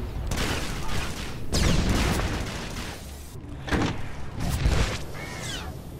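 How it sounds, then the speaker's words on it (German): Grenade blasts from Star Wars: The Old Republic, a sci-fi MMO, come as a few heavy booming bursts with clattering gunfire-like bangs, loud and close, around the middle and the end, with no talk. "Schön die Granate ran."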